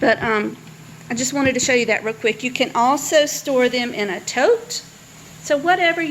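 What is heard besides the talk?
No everyday noise stands out behind the speech.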